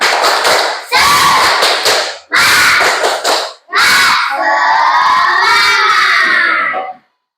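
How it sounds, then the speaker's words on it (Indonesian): Schoolchildren in a classroom clap and shout the tepuk semangat chant, several loud rhythmic bursts of clapping and voices, ending in a long drawn-out group shout before abrupt silence. "Tepuk semangat."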